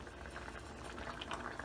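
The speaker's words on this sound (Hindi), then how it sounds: "ये देखिए, चिकन पक रही है और चिकन ने अपना पानी भी छोड़ा है इसमें" Chicken drumsticks simmering in a pan in their own released juices, a soft continuous bubbling and sizzling at low level, steady and close.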